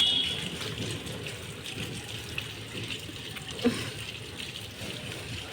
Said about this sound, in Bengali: জল ওভারফ্লো হয়ে গেছে।